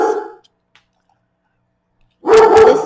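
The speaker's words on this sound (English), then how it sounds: "That was my dog." A pet dog lets out one loud, close bark near the end after a near-silent pause, with a brief fading sound at the start.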